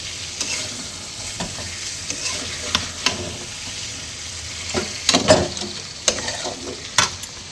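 Vegetable curry being stirred in a pan, with steady faint sizzling and repeated scraping strokes of a spoon across the pan, near and alone without voices.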